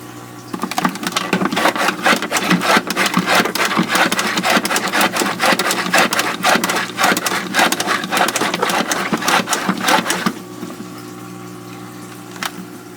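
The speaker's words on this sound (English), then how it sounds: "I can certainly hear that it's still running." A stalled aquarium filter motor with a clogged intake keeps running, giving a steady close hum under dense rattling and water noise for about ten seconds, then the rattle cuts out and only the hum remains.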